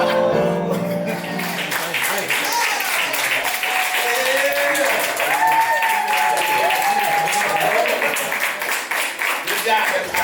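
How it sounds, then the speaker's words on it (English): Crowd clapping along on the beat at a vow renewal celebration, steady rhythmic hand claps under loud music and singing throughout. "All right, now y'all gonna clap on beat now."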